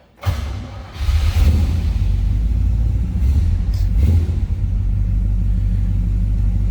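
A 1967 Buick GS 400 V8 cranks and catches with a thump, revs briefly, then settles into a steady, loud, close rumbling idle with a second small blip of throttle.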